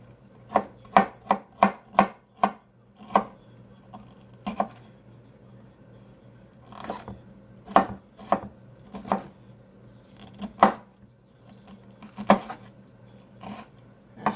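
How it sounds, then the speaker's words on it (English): A knife chops vegetable florets into smaller pieces on a board, giving a quick burst of crisp, close knocks, then a pause, then scattered single cuts and short clusters, with no talk. "on this side with time, I'm cutting it smaller to make it cook quicker."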